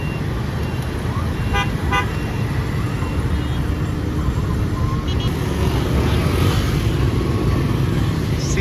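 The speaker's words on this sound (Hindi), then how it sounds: "अभी इधर से ट्रैफिक छूटेगा तो झुंड देखिएगा" Dense moped and motorbike traffic on a Ho Chi Minh City street, a steady close rumble of many small engines with scattered horn toots, continuous throughout.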